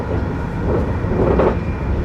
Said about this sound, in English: we've bought some more tickets and back on another train